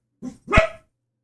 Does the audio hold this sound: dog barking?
yes